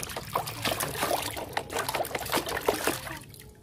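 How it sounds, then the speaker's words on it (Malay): Water trickling and splashing as a toy animal is washed, with small pours, drips and wet handling sounds close up at a moderate level, without talk. "Kita cuci dulu kawan."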